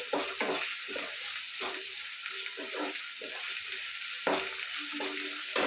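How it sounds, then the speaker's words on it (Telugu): Ginger paste fries in a pan, a close sizzling hiss broken by repeated scraping stirs and soft clinks, with no speech. "అల్లం పేస్ట్ కూడా వేగనివ్వండి"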